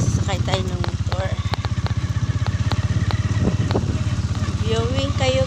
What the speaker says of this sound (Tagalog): Ayan guys, sakay tayo ng motor.